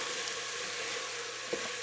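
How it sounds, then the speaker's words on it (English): Onions fry in a pan while kale and ugali are being cooked, giving off a steady, close sizzle with faint stirring. A light clatter near the end comes from the pan or a utensil, and nobody speaks. "these are onions I'm frying right now"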